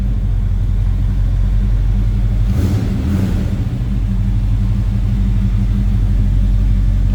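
A 1981 Chevrolet C10 with a small block Chevy 350 V8 rumbles loud and close, with a brief rev swelling midway before settling back to a steady deep idle.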